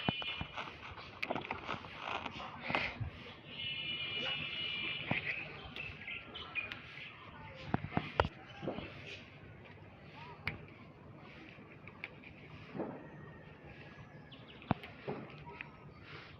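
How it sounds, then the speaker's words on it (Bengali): Assorted birds chirp and tweet around a rooftop garden in winter, thin, bright calls scattered throughout at a modest distance, with light rustling and handling noises in between. "সব সময় সব রকম পাখি কিচিরমিচির করে,"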